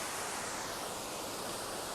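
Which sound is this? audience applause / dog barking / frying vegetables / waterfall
waterfall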